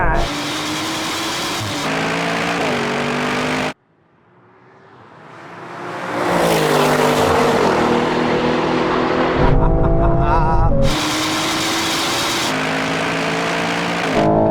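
An Aston Martin V12 car roars hard in a drag race, its engine revving through gear changes with a brief lull, then climbing again as the wheels spin, loud and close throughout.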